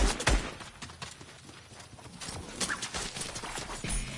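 Hooves clip-clop in quick bursts amid game-like sound effects in Fortnite, with a brief whinny-like sound and no speech.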